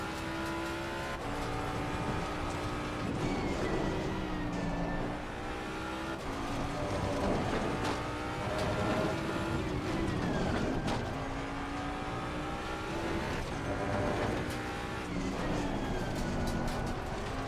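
A Ford Mustang GT3 race car in Assetto Corsa Competizione roars loud and close throughout, with repeated rising revs and gear shifts in a continuous track run and no talk.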